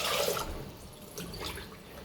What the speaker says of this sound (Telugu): 3 గ్లాసులు నీళ్ళు పోస్తున్నాను.